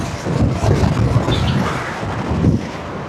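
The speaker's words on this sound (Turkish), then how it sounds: "Rüzgar var baya bir." Strong wind roars across the microphone while riding a Dualtron Popular electric scooter at about 70 km/h, a continuous low rumble with gusty swells, loud and close, no voices.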